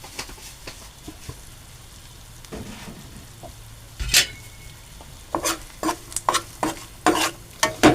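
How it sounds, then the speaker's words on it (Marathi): Onion and urad dal sautéing in a pan: a soft sizzle runs underneath as a spoon scrapes and clinks in a quickening series of sharp stirring strokes toward the end. "कांदा चांगला तांबूस होईपर्यंत आपण परतून घेऊ."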